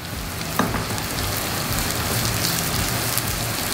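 Shallots and garlic sautéing in a pan for a squid dish, a steady close sizzle and crackle running throughout with no talk.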